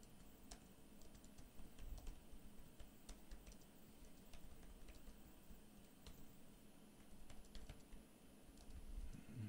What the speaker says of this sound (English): just kind of type this out quick and hopefully minimal spelling errors